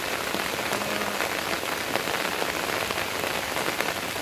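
Steady rain falls in a continuous, dense hiss of drops striking surfaces, close and even throughout with no talking.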